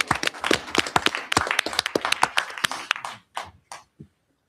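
Clapping at a town board meeting, a brisk burst of dense close claps that thins to a few last scattered claps before stopping.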